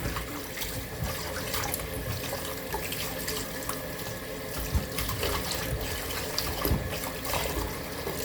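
Tap water runs steadily into a sink while a turkey drumstick is rinsed under it, a close continuous splashing with small changes as the meat is turned.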